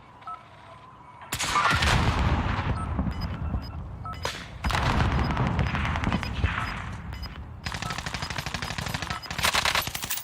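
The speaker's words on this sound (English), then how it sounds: "Bullets everywhere!" Video game gunfire comes in dense, loud machine-gun bursts and rapid volleys that rattle on almost continuously, with brief pauses between the long strings of shots.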